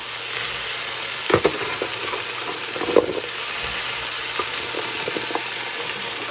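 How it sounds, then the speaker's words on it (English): Celery and zucchini sizzle steadily in a hot pan for a chicken and dumplings dish, with a few clacks as the vegetables are tossed. "Go ahead and put all of that in now. Just a good toss."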